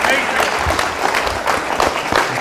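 Audience applause at a Wolfeboro, New Hampshire talk on UN Agenda 21, a dense burst of clapping from a room crowd, loud and close, with a voice faintly under it.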